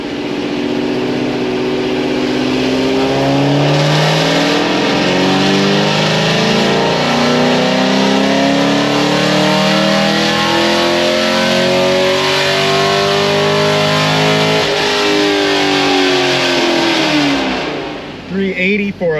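Supercharged Camaro engine roaring loudly and continuously on a dyno pull, its pitch climbing steadily through a long sustained rev before cutting off near the end, with voices faint underneath.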